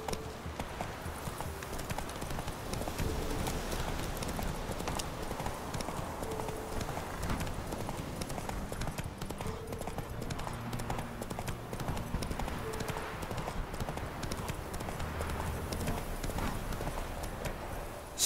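Galloping hoofbeats from Roach, the horse in The Witcher 3 Wild Hunt, run on steadily for a long stretch, a continuous loud clatter under game music and ambient noise.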